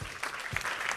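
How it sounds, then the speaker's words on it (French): Brief burst of audience applause at a French retail business event, a short round of clapping with some voices mixed in. "Eh bien, on peut les applaudir."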